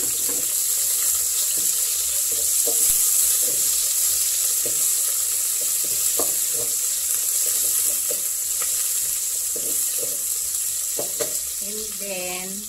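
Onions hit a hot pan while cooking pork pochero, giving a strong, steady sizzle and hiss throughout, with occasional clinks of a utensil against the pan close by.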